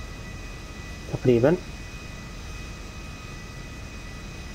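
In Grand Theft Auto V, an airplane's engine gives a steady, faint drone throughout, under a brief burst of a man's speech.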